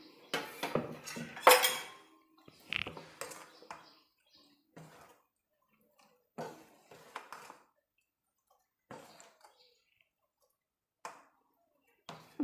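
Dosa batter mixed with water in a bowl, with a spoon clinking and scraping against the bowl in short, scattered bursts separated by quiet gaps. Close and fairly soft, with no talking.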